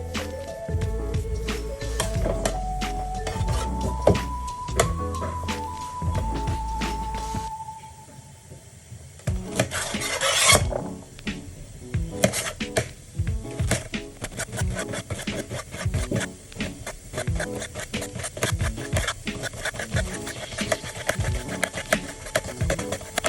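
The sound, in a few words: cutting okra by hand for Ofe Okwuru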